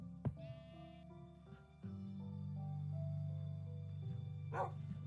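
A sheep bleats in Minecraft Beta 1.7.3, with wavering, drawn-out tonal bleats held for several seconds. A sharp click opens the clip and a brief noisy burst comes near the end.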